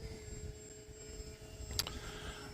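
A Hobbyzone Aeroscout RC airplane takes off, its small electric motor giving a faint, steady whine over background noise, with a brief sharp click near the end.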